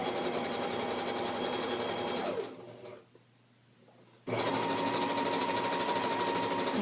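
A sewing machine stitches a decorative welted pillow cover with a steady, close, busy whir. The motor halts for about two seconds midway, then starts stitching again at full speed.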